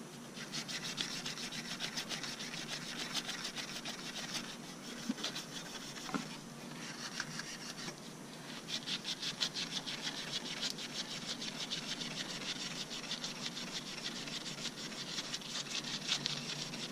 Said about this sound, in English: Then we'll sand it off real good.